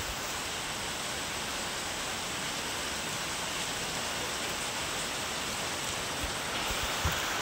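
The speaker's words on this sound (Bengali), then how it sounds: "বাইরে কিন্তু প্রচণ্ড জোরে বৃষ্টি হচ্ছে" Heavy rain falling outside, a dense, even wash of noise that holds steady from start to finish with no voices.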